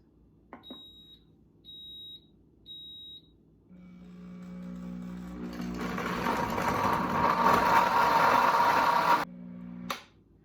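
Multi-setting heated blender switched to its smoothie program for an orange smoothie: three short electronic beeps, then the motor starts and climbs into a loud, steady whirring blend before stopping abruptly with a final click.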